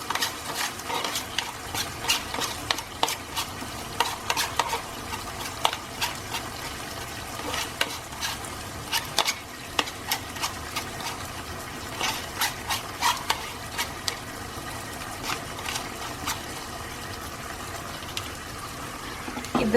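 Tamarind puree being stirred into pumpkin sabzi in a pan, with steady wet scraping and sloshing strokes and a soft sizzle underneath, close and moderately loud throughout.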